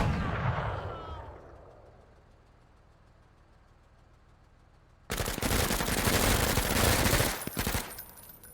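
A rocket launches in a video game, followed by a long fading rumble, then a sudden loud burst of explosions and gunfire that keeps roaring to the end.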